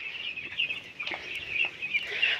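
Broiler chickens on a poultry farm in hot weather cluck and peep steadily as a dense flock, with a few louder calls rising above the continuous chatter and no talking.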